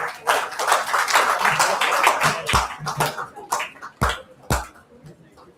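Audience at a college orientation program applauding to welcome a speaker; a dense burst of clapping that thins out into a few scattered, louder claps near the end, with some voices mixed in.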